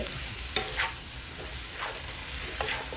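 Shrimp with oyster sauce and salt stirred briefly in a hot pan, a soft continuous sizzle broken by a few light scrapes of the utensil, fairly quiet and close, no talking.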